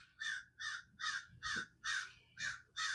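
A crow calls repeatedly outdoors, seven loud harsh caws spaced in a steady rhythm about every half second, close and clear over a faint background hum.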